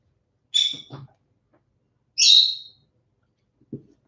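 Close bird calls come in three bursts: a sharp, high call followed by two low clucking notes, a pause, then a louder rising call, and finally a brief low note. Quiet gaps separate the bursts and nobody talks.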